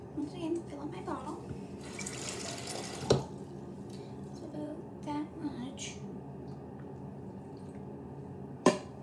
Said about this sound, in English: I'm gonna once again fill up my bottle